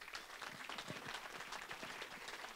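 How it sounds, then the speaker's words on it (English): Applause from the audience at a lake preservation group's annual meeting, a continuous, very faint patter of many hands clapping heard from a distance for the full few seconds. "I think a round of applause would be great for that too."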